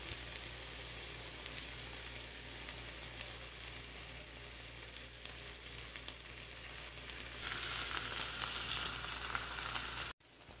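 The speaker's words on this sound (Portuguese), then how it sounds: "E eu vou jogar o óleo e o alho." Garlic and oil sizzling in a pan with shrimp, a steady loud frying hiss that grows brighter partway through, then cuts off abruptly near the end, with no speech.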